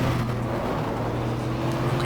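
Yellow Porsche race cars in the GTR2 racing game at the 1995 Daytona 24 Hour, a steady loud engine drone with a strong low hum held throughout, no pauses or talk.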